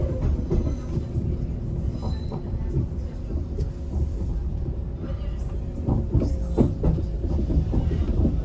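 Train running on rails toward Manchester Airport, a steady low rumble with faint rhythmic clatter throughout, with some background talk.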